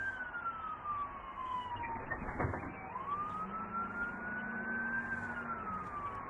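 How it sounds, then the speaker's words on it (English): A police car siren wails through a residential area, its long rising and falling tone echoing off surrounding buildings at moderate distance, steady and unbroken with no talking over it. "That siren's going to bounce off all that and echo to the next block over"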